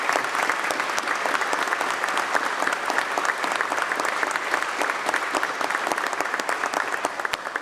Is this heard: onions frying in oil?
no